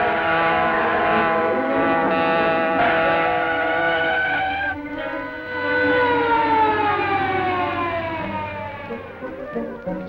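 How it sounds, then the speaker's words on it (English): A police car siren wails loud and steady in a 1940 car chase, its rising and falling tone sustained throughout with a brief dip midway. "Police car following us, Kato."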